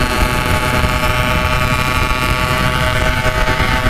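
A Yamaha RX King with a packing power exhaust roars steadily and loudly along the Pantura road toward Cirebon, a continuous close engine drone mixed with wind rush and no letup.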